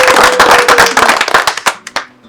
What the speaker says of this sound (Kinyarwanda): mubanze mubampera amashyi rwose